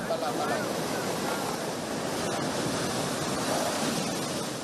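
Super Typhoon Ragasa's storm-surge waves crash onto the seaside walkway at Heng Fa Chuen, Hong Kong, making a dense, unbroken roar of surf mixed with buffeting wind.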